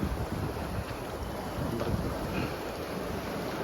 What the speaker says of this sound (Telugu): హార్బర్, నిజాంపట్నం